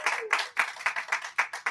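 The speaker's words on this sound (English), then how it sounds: "Give Priest a thunderous round of applause." An audience at a Barnes & Noble bookstore event breaks into applause, a dense burst of hand clapping with uneven rhythmic peaks, fairly near and moderately loud, with no talk over it.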